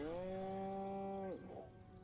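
A cow moos in the video game Destroy All Humans, one low, drawn-out call that holds steady and then drops off abruptly, followed by faint airy noise.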